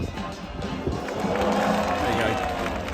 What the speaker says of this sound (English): Here's the cheer from Yuki.